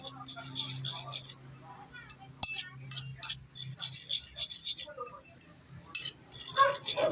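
A spoon stirs a small bowl of vinegar mixture, giving repeated light clinks of metal against the dish, with someone talking over much of it.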